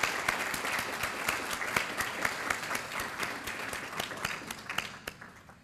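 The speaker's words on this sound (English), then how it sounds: "please give yourselves a round of applause for that generosity" Guests at a dedication dinner honoring a physician at East Carolina University break into sustained applause, a thick wash of clapping with a few sharp individual claps, tapering off at the end.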